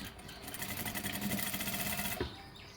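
A sewing machine stitches down a folded fabric hem in a quick, even run of rapid needle strokes, close and steady, stopping abruptly near the end.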